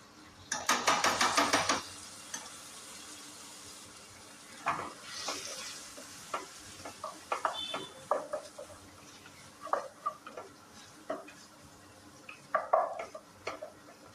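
Tomato ketchup and soy sauce stirred in a pan, starting with a brief loud burst of hissing sizzle. Irregular utensil scrapes and taps against the pan follow over a faint background sizzle. The sounds are close and no one speaks.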